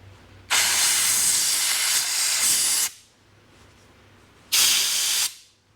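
A compressed air hose blows chips out of a lathe in two loud bursts of hissing air, a long blast of over two seconds, then a shorter one, with a quiet workshop between them.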